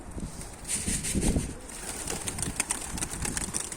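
Pigeons fly and coo above a coop outdoors, with soft cooing and a light flutter of wings over quiet ambient noise, all fairly faint.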